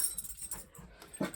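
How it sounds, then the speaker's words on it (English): Dogs whimpering indoors, faint soft whines and breaths over low background noise, with a slightly louder whine near the end. "Sorry, those are my dogs."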